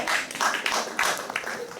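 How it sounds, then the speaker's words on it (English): A small audience at a live comedy show gives a brief smattering of applause, with a handful of scattered, uneven claps at moderate volume fading in and out over a couple of seconds. "that voice is what we call a smattering of applause"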